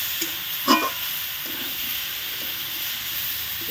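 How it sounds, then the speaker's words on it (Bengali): Fried eel pieces being stir-fried in a curry in a pan, with a continuous close hiss and sizzle and a single brief clatter of the spatula near the start. "এর ভেজে রাখা মাছগুলো দিয়ে দেওয়া হলো দিয়ে আরও কিছুটা কষিয়ে নেওয়া হবে"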